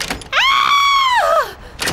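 A cartoon door swings open with a long, loud, tonal creak that rises, holds steady and then slides downward, standing alone between short bursts of other sound at either end.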